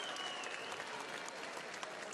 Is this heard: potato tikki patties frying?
no